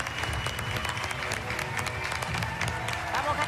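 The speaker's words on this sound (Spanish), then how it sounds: "este aplauso para Jacinta, que sigue en La Voz Argentina." A studio audience at the Argentine TV singing contest La Voz Argentina applauds and cheers a contestant, with clapping and crowd noise running throughout and voices mixed in.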